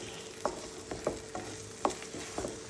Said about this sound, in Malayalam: അപ്പോൾ ഇനി നന്നായിട്ട് ഇതൊന്ന് ഇളക്കിയിട്ട് നന്നായിട്ടൊന്ന് ഫ്രൈ ആക്കാം